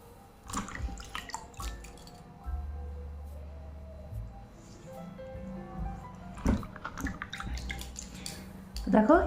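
Hands are wetted with warm water, giving faint, scattered drips and small splashes at close range, with a person talking quietly alongside.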